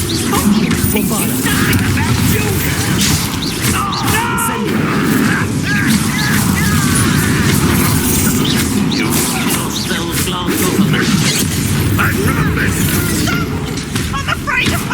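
Bombarda spell explosions in the video game Hogwarts Legacy, booming blasts and crashing debris in a dense, loud continuous battle roar with no clear gaps, while a voice speaks over the din.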